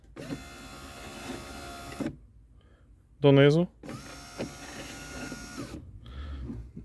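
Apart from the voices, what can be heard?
car power window motor moving glass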